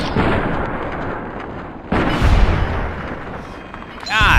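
Gun blasts in Fallout New Vegas on modded PC, a heavy boom near two seconds and another burst at the end, loud and close over a dense rumbling game background.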